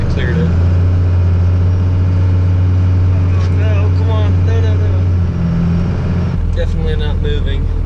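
Cummins 12-valve diesel in a five-speed dually pickup revs steadily while spinning its tires in snow, a loud continuous engine drone with a pitch change near the end, and someone talks over it.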